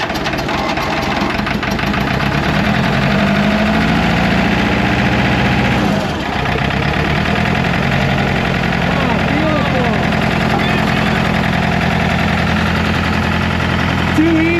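An Allis Chalmers 644 articulated forklift that sat unused for over ten years idles close and loud with a rough, knocking diesel rumble, while people talk over it.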